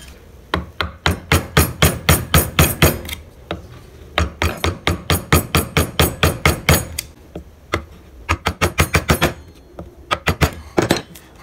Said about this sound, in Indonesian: Kita coba menggunakan pahat kol di bagian yang sebelah sini ya teman-teman.